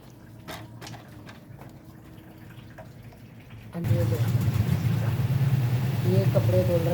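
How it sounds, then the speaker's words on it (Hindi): Clothes being washed, likely in a machine: a steady low churning hum with water sloshing starts abruptly partway through and continues under someone talking. "ये कपड़े धुल रहे हैं"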